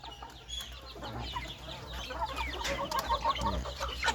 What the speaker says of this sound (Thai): นี่ครับไก่ยาวนะ